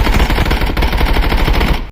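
Sustained automatic fire from a 5.56x45 rifle in the game Contractors Showdown, a loud, dense stream of rapid shots lasting nearly two seconds before cutting off abruptly.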